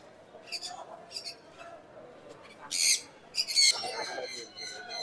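Parrots, a red lory and a ringneck parakeet, give sharp, scratchy squawks and shrill calls in several short bursts, the loudest near the middle, with voices murmuring in the background.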